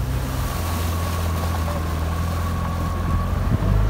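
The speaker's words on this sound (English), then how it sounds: "Listen to the boat noise. I want to hear it thumping away." A rowing boat hull drums steadily against the water under engine drone and wind noise, continuous and fairly loud throughout.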